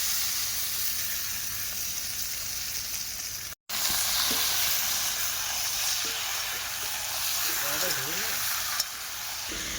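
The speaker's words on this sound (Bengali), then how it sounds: "তো এখন মাংসটা দিয়ে দেবো। তো মাংসটা এখন দিয়ে দিচ্ছে।" Raw meat tipped into reddened fried onions in a pan over a wood fire, sizzling and frying steadily and loudly from start to finish, with a brief break and faint stirring noises.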